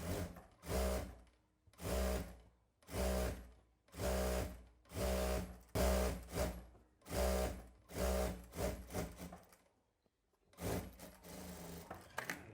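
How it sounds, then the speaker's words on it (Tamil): Sewing machine stitching a pillow cover in a tailoring class, a quarter-inch seam run along one side, sounds in about ten loud rhythmic bursts of whirring stitches separated by short pauses, with no talk. "ஸ்ட்ரைட்டாக வச்சுட்டு ஒரு 1/4 இன்ச் அளவுக்கு வந்து நம்ம தையல் போட்டுக்கலாம்"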